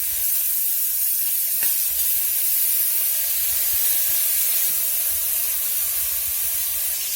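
Chunks of beef for birria searing in a hot pot, a loud, steady sizzle and hiss that runs unbroken from start to finish with no talking.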